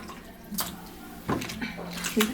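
A makeup brush is rinsed under a running tap, giving short splashy bursts of water with brief gaps between them, close by and fairly soft.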